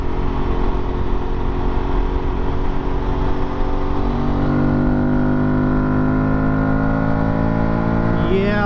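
Aprilia Tuareg 660 motorcycle on dirt tires, running at highway speed with a steady engine drone; a quickshifter downshift near the end brings a rising blip of revs.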